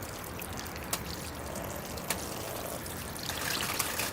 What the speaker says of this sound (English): All right, here I go with the water. Just kind of wash it down.